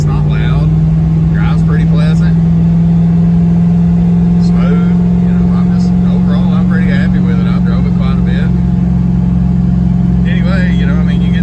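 Inside a turbocharged LS-swapped Ford Pinto, a constant, loud engine drone holds steady throughout while a person talks over it.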